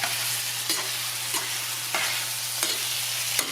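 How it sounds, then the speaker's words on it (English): Butter stirred into a hot cooking pot for Southern-style cooking: a continuous loud sizzle and hiss, broken by regular spoon scrapes roughly every half second, with a low steady hum beneath and no speech. "And we're just going to take that and stir it in there."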